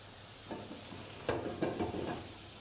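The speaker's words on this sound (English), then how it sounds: "So into the pan first, some fish stock." Fish stock in a pan, being heated as a risotto base, hisses and sizzles softly, with a few louder stirring scrapes and bursts toward the middle and no talking.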